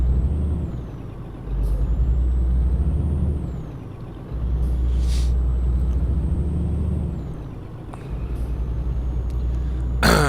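Heavy truck in Euro Truck Simulator 2 rolling off a train, a steady low diesel engine rumble with hissing air-brake bursts and faint high tones, loud and continuous with no talk.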